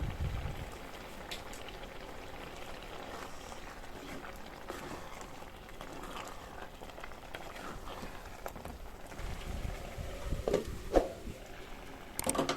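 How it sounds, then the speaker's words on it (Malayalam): Ridge gourd curry simmers in a covered clay pot, giving a steady, soft bubbling and crackle like light rain throughout, with a few sharper pops near the end. "ഒന്നുകൂടെ അടച്ചു വെച്ചിട്ട് ഒന്ന് തിളപ്പിച്ചെടുക്കാം"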